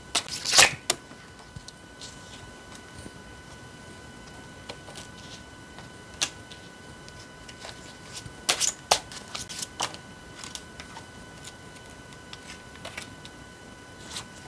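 Tarot cards being shuffled and drawn: sharp, sparse flicks and snaps of cards, with a louder burst near the start and several more later, against a quiet background with no talking.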